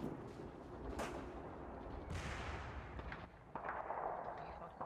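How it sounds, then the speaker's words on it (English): Covering gunfire in a military video game: sustained, rumbling bursts of shots and booming reports, muffled and somewhat distant, running continuously with radio-style voices mixed underneath. "I want you to lay down, surprise covering fire towards the southwest."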